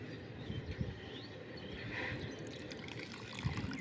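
Drinking water is poured, a soft, steady trickle and splash heard close but faintly against a hiss of background noise, with a couple of light knocks.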